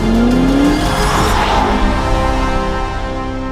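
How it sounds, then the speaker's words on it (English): A Range Rover Sport SV with a 4.4-litre twin-turbo V8 making 635 PS accelerates hard. The engine roar is loud and close, its pitch climbing quickly and then holding at a sustained high note. "That engine is an absolute thug of a thing."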